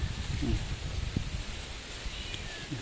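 Steady wind gusting across the microphone with a soft rustle of leaves, a continuous broadband rush with no voices.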